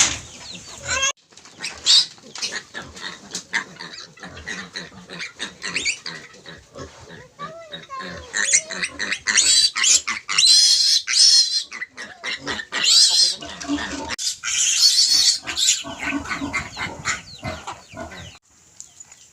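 Native pigs on a farm grunt and squeal repeatedly in a busy, irregular stream, with sharp high squeals bunching toward the middle and end, close and loud, alongside some flapping and fowl-like sounds.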